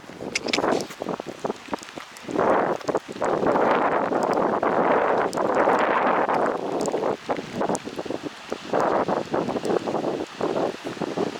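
Strong gusty wind on Belle Ile buffets the microphone in loud rushing waves, with rustling and flapping throughout.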